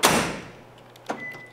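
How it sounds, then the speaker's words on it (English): A pickup truck's doors locking from the factory key fob: a sharp mechanical clunk that fades out, then a second lighter latch click about a second later, heard close with no voices. "Lock the doors."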